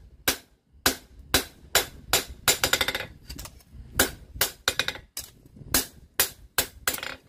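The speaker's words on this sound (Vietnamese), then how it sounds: "nó đập bên đây búa, rồi đập dẹp ra, nó đập lại chiều này" A broken knife blade is hammered flat by hand: about fifteen sharp metallic blows in an uneven rhythm, with a few rapid bursts of strikes, close and loud with no talk.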